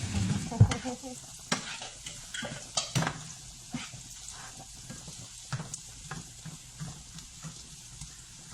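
A utensil stirs gravy in a pan, with a run of scraping strokes over a soft sizzle. The first strokes are louder, and later ones come fainter and evenly spaced.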